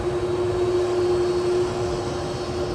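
Boeing 767-300 airliner at Edinburgh airport, a steady loud jet engine roar with a whining tonal hum throughout, heard alone at some distance.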